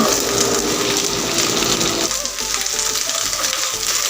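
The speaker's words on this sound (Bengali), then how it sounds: "তিন থেকে চার মিনিট সময় নিয়ে আমি ভেন্ডিগুলো হালকা করে ভেজে নেব" Okra frying in hot mustard oil gives a steady, loud hiss and sizzle that carries on throughout, with a slight shift in texture midway as the pieces settle in the pan.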